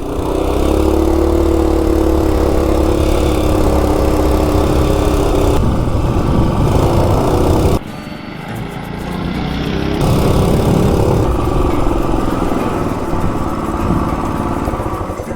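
A minibike with a Coleman 196cc engine runs loud and close, droning steadily with a sharp shift in pitch partway through, the engine alone.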